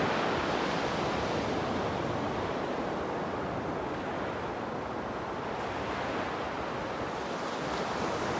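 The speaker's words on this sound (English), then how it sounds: "the waves are beautiful this morning" Ocean surf and wind on a morning shore, a broad continuous wash of breaking waves with gusting wind buffeting the microphone throughout, loud and steady with no voices.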